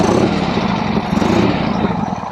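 A 1976 Harley-Davidson Sportster engine runs steadily close by, a loud, continuous low rumble with a lumpy, throbbing pulse throughout.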